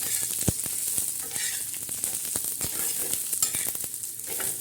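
Coconut and black masala roast in a little oil in a pan, giving a close, crackling sizzle broken by frequent sharp scraping and stirring clicks.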